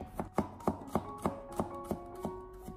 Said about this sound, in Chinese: 紧接着再准备几个大蒜子，先把它改刀切成薄片。